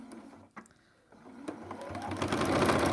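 A sewing machine back stitching the seam of a fabric zipper pouch made from Christmas scraps, a quick stop-start then a steady rising whir of the needle running close by.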